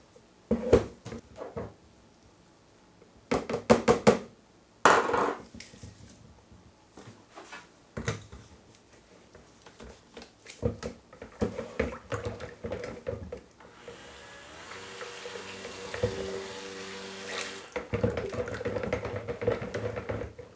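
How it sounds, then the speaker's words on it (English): A handheld mixer blends poured colorants into soap batter, sounding in short intermittent bursts with pauses and handling clatter, then running in longer steadier whirring stretches toward the end. "I am going to go ahead and pour them and then mix them with my mixer here"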